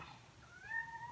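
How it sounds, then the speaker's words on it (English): A house cat lets out a single drawn-out meow, faint and indoors, rising and holding for about a second with no talk over it. "sorry, that's my cat."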